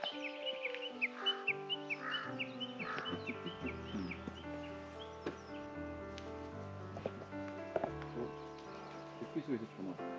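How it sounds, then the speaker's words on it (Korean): Birds call on Jirisan mountain, a busy mix of chirps and whistled notes repeating near and far at moderate volume, with steady tonal sounds and faint talk underneath. "아 새소리가 진짜."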